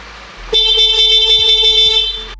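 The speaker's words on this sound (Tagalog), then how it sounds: "Ngayon, subukan natin yung kanyang busina." Horn of a Honda Winner X 150 ABS underbone motorcycle, sounded once as a loud, steady electric beep held for about two seconds close by, with a faint engine rumble underneath.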